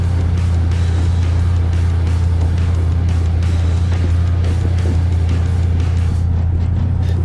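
An off-road race car crawls slowly over rough desert terrain at King of the Hammers. Its engine gives a loud, steady low rumble throughout, with faint rattles and bumps on top and no speech.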